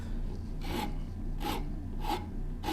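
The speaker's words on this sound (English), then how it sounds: "use it to hold something while I'm rasping things" A hand rasp works a piece of wood held in a clamp set into a vise, giving four evenly spaced rough scraping strokes, close and fairly loud against a low background hum.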